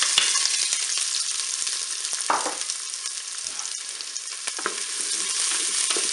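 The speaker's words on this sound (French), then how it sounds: "l'huile est chaude, je vais donc mettre mes oignons" Onions hit hot olive oil in a Cookeo multicooker pot and fry with a steady bright sizzle, broken by a few clattering stirs and scrapes.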